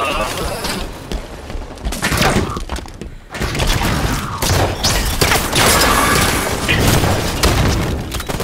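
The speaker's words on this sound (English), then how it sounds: "Throwing a grenade!" A grenade blast and rattling gunfire ring out in a Halo 5 Warzone match, a dense, loud barrage of bursts and booms with a brief lull around the third second before the chaotic firing surges again.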